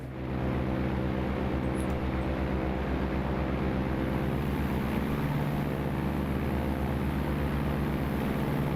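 The engine of a Camair 480 aircraft runs steadily outside, a loud continuous droning hum with deep harmonic tones and no change in pitch, heard alone without talk.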